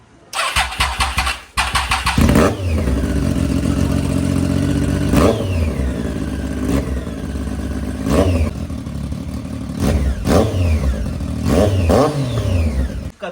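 A Triumph Daytona 675 with an inline-three engine starts, then settles into a loud, close idle broken by several sharp throttle blips that rise and fall back, repeating every second or two.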